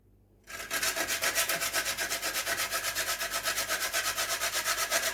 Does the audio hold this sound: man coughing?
no